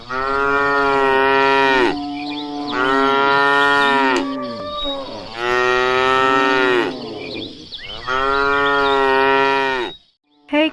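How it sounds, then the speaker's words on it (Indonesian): A water buffalo in an audio drama lets out four long, loud, close moos in succession, each a drawn-out tonal bellow separated by brief pauses, with no speech over them. "Tetapi kerbau itu malah mendekati Putri Tadampalik"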